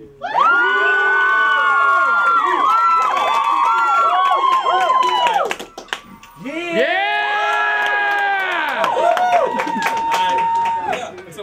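Crowd at an emcee rap battle erupts in loud cheering, whooping and shouting, a sustained roar that drops briefly to a lull before surging back just as loud.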